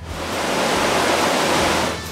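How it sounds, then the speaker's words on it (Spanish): El Chorro waterfall near Chongoyape pours steadily with a loud, broad, continuous hiss and roar of falling water, close and unbroken. "La catarata El Chorro, una impresionante caída de agua permanente en este lugar"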